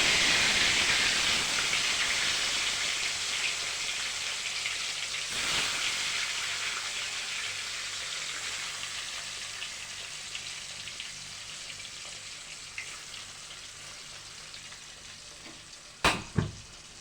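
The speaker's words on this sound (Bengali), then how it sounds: "এবার মাছটাকে আমি ভেজে নেব" Small puti fish deep-frying in plenty of hot oil give a steady, close bubbling sizzle that slowly eases over time, ending with a couple of sharp utensil clicks.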